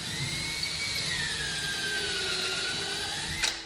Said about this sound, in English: use your drill with your drill bit.